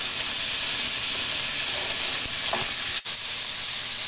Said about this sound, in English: We want to hear that sizzle to make sure the lamb is going to brown and not just boil in the heat of the oil.